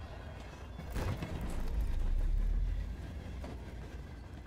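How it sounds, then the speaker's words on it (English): A moving train in the video game Darq gives a low, steady rumble with rolling clatter that swells in the middle and then settles, continuous and fairly close. "am I on a moving train?"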